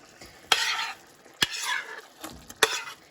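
Shrimp go into a simmering coconut curry sauce in a pan. A spoon knocks against the pan three times, and soft bursts of sizzling and stirring follow each knock, close and clear.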